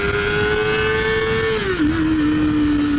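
High-pitched screaming whine of a 2023 Kawasaki ZX-4RR 400cc four-cylinder sport bike held near 12,000 RPM in traffic, close and loud, steady then dipping slightly as the revs drop, wind noise underneath.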